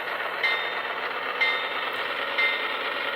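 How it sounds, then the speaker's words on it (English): An HO scale GE AC6000 diesel locomotive model runs its sound-equipped startup sequence, a steady droning engine rumble with a soft repeating tone that recurs about once a second. The sound is fairly loud and nobody talks. "it'll start moving as soon as the sound for the startup sequence is over with"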